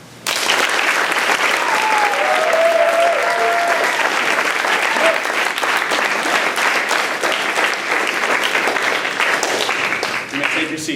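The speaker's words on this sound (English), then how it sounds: "Give a round of applause for the people who helped you through this program." Sustained applause from a graduation ceremony audience honouring the people who helped cadets through their program, loud and steady for about eleven seconds, with a brief whistle-like tone early on.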